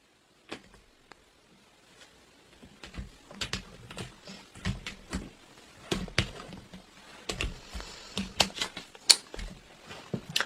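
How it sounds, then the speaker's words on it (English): A deck of tarot cards being cut and shuffled by hand, irregular sharp taps and clicks of stiff cards knocking together, close up and quiet, with no talking. "I'm going to cut these because these cards are hard to come out"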